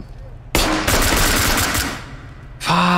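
Rapid gunfire from the tactical shooter game Ready or Not, a dense burst of loud shots lasting about two seconds, then a brief lull before another loud sharp burst.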